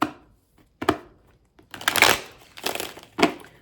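Tarot cards being shuffled by hand, a few short papery riffles and slaps, close and crisp, with brief pauses between bursts.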